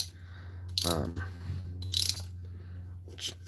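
A dry, sticky clock mainspring from a Centurion 35-day movement is wound by hand, giving a few short metallic ratcheting clicks and scrapes in bursts separated by quiet gaps, close and fairly soft.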